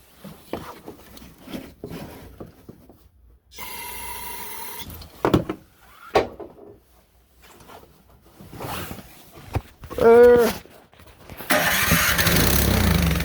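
A Troy-Bilt snowblower engine is pull-started with several sharp rope pulls and brief sputters, then catches and roars steadily at close range near the end, with no talking.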